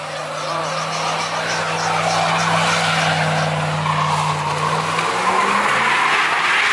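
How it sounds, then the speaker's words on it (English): A car doing a burnout, a loud sustained tire screech over a droning engine that shifts pitch toward the end, with no talk over it. "Is Lo doing a burnout?"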